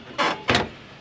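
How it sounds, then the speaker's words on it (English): On a 1966 Chevy Nova, the door striker ramps up into the latch, making two quick scraping, grinding metallic rasps close by, followed by the start of a third. "you're hearing the striker inside kind of ramp up and into the door latch"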